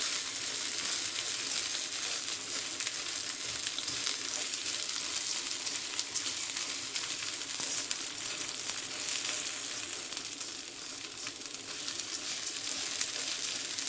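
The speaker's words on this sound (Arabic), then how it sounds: "نشوحه كده مع بعض شوية" Yellow lentils and rice sautéing in ghee and oil give a steady, close sizzle and crackle that holds evenly throughout, with faint stirring and no talk.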